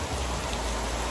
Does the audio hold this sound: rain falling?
yes